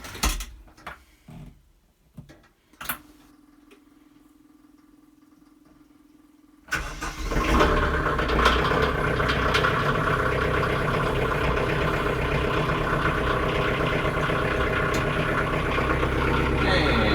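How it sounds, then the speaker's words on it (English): Clicks and rattles come first, then a short steady whine. A tractor fitted with forks cranks and catches, and its engine settles into a loud, continuous, close idle that runs to the end. "we're going to set up our mobile work platform, aka the tractor with the forks on it"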